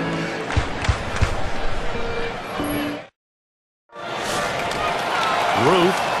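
A baseball stadium crowd at a Yankees game, bottom of the ninth, makes a loud sustained roar and buzz. A brief silent gap falls midway, then the noise resumes under commentator talk.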